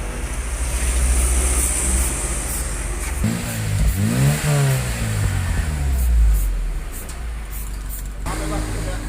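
A Toyota Starlet capsule-body engine revs up with its exhaust note rising and falling in a close, loud sweep, set against a steady idle rumble with background noise and voices.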